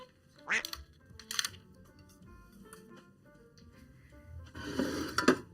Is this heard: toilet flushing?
no